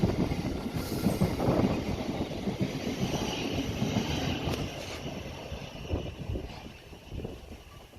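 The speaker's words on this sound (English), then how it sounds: "The train is going to be approaching platform 2" A train pulls through Hampton station, a steady broadband rumble of rolling wheels and wagons held at a constant loud level with slight swells, with wind noise at the microphone and no voices.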